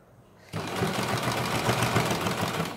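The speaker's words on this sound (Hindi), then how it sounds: "अभी यहाँ पे हम सिलाई लगाएंगे।" Sewing machine stitching a patchwork blouse, starting abruptly after a brief quiet moment and then running in a steady, fast, close mechanical whir with rapid needle clatter.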